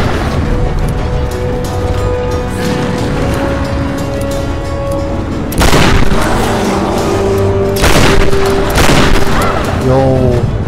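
Gunfire and heavy booms from the video game Tomb Raider: Definitive Edition on PlayStation 5, a dense, loud fusillade of shots with bursts sharpening after midway, under a voice talking over the action.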